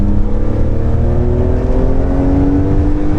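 BMW Z4 M roadster engine heard from inside while driving, a loud, steady drone with harmonics slowly climbing in pitch as it pulls, continuous throughout with no talking.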